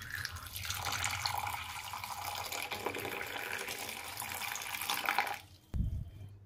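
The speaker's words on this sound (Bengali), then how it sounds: "শুরুতে তো পাতাটাকে ভালো করে ধুয়ে নিলাম।" Running water pours steadily from a tap over an aloe vera leaf being washed, a close, continuous splashing rush for about five seconds that stops abruptly, followed by a short low thump.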